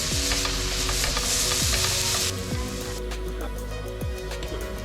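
Meat frying in a pan on a camper-van stove, a steady close sizzle and crackle with occasional sharp stirring scrapes against the metal.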